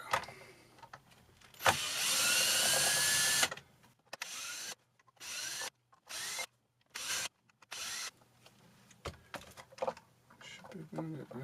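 A power drill whirs in a sustained burst, then runs in several short, separate spurts with brief silences between, close by, with some handling noise, while fitting pickups to a Fender Stratocaster pickguard.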